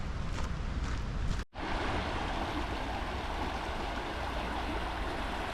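Creek water runs steadily over rocks in a stone-lined creek bed in St. Louis, a continuous broadband rush with a brief dropout early on, then constant near flow with light wind noise.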